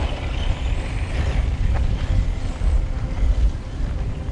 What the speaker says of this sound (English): let's drive this thing around